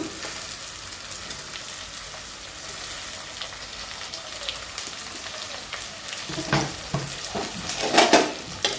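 Beans, carrot and cauliflower frying in oil for spinach pulao, a steady close sizzle that swells into louder stirring and crackling bursts toward the end.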